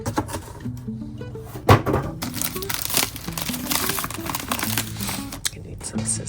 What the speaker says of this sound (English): Okay, so let's unbox this item.